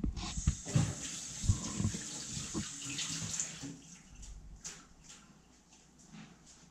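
Running water splashes and gurgles from a tap, with brief hand-rinsing splashes, close by, then quieting toward the end.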